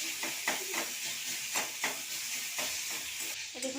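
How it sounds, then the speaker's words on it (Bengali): Elephant apple chutney being stirred and mashed with a spatula in a pan: a steady sizzle runs throughout, broken by repeated soft scraping strokes at an uneven rhythm, close and moderately quiet, with no talking. "খুঁটি দিয়ে ঘাঁটলে এইখানেই ঘাঁটা ঘাঁটা হয়ে যাবে চালটাটা।"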